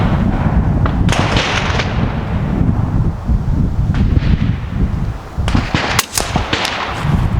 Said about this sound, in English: That was a big gust of wind.